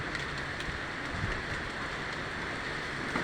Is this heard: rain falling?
yes